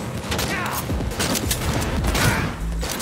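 Gunfire in Cyberpunk 2077 on PC, a steady loud barrage of shots with mechanical clatter and low thumps, continuous and close throughout, with a player's voice mixed in.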